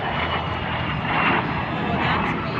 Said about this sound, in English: here he comes. Look to the left and slightly behind Jerry Connolly in the de Havilland Vampire